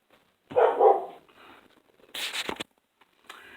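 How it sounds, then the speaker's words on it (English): A dog gives a muffled bark, then after a pause a sharper, higher bark, both from a room or two away. "Sorry about the dogs."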